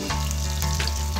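Onion pieces, tempering seeds and dried red chillies go into hot oil in a pan, producing a short, dense burst of crackling sizzle that stays close and fairly loud.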